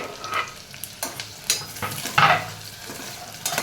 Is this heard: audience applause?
no